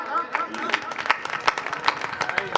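A live audience claps at a Hindi comedy poetry recital, with scattered sharp claps popping irregularly beneath a speaking voice.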